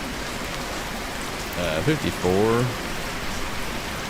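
Steady rain hisses throughout a voxel zombie survival game called Human Host, with someone briefly speaking over it midway.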